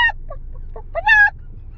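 A person's voice imitates a hen's clucking in a few short bursts ending with a longer drawn-out cackle, close and clear.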